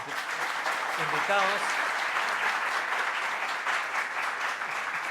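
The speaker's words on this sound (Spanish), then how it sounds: "quiero pedir un aplauso para nuestros" Audience applause at a public panel event on election proposals, a sustained wash of clapping lasting several seconds, with a brief spoken word at the start.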